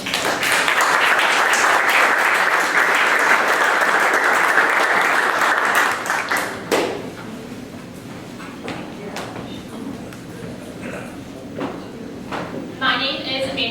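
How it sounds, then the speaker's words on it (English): Audience applause rises for the next presenters at a 1 Million Cups startup pitch event, a dense, loud wash of clapping for about six seconds that then thins to scattered claps and quieter room noise. "please give a warm round of applause to our next presenters"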